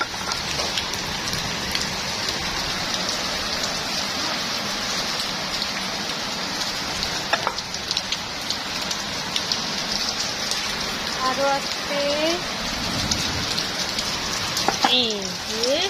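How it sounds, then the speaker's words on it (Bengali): Rain falls steadily on potted garden plants set outside, an even close hiss of drops on surfaces, with brief voices and a few short chirps near the end. "এখানে বৃষ্টি পড়ছে"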